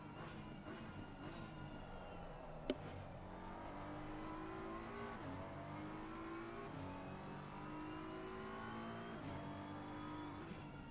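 Onboard engine of a race car in Assetto Corsa Competizione at Zandvoort, revving hard and rising in pitch, then dropping sharply at each gear change, loud and continuous with no talk.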